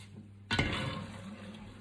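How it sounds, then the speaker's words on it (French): Cooked spaetzle rinsed under a cold running tap: the water comes on suddenly and then runs as a steady, close rushing hiss that fades slightly. "on va rincer cela directement sous l'eau froide"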